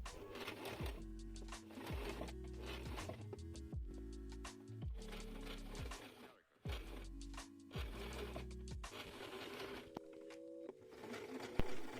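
A sewing machine stitches a waistband on fleece trousers, running in steady mechanical bursts with short pauses between them, close and fairly quiet.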